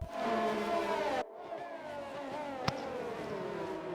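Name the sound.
racing cars on formation lap, racing video game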